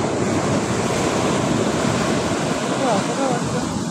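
Ocean surf rolls in steadily at Sagareshwar Beach in Vengurla, Konkan, Maharashtra, a continuous loud wash of breaking waves mixed with wind buffeting the microphone, with no pauses throughout.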